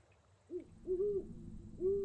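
Three low, mellow hoots from a large owl in a cave exploration game, each call slightly longer than the last, heard alone over a faint hum.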